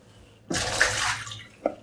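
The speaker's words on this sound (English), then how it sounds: "And drain water and set aside." Rinsed rice water pours out of a bowl in one short, splashing gush, close and moderately loud, then ends with a small clunk; no talking.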